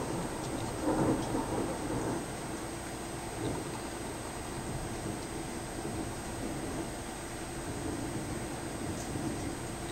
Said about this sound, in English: That was a long roll of thunder.